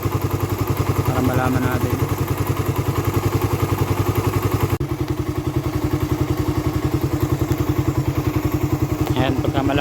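Rusi Raider 150 motorcycle engine running hot with a carburetor setup and a noisy head, a steady rapid idle throb with metallic rattling clatter throughout, close and loud, with someone speaking briefly over it.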